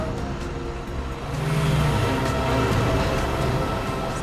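A car drives past on a road, its engine noise swelling and holding steady as it goes by, fairly loud with a broad rumble and no speech.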